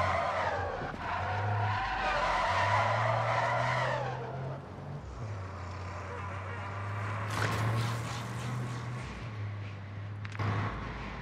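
A car in Call of Duty Modern Warfare Zombies drives hard with a steady engine drone and long tire skids, a sharp screech near the end, under game voice and effects.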